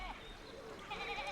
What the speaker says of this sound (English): I love the sheep in the background.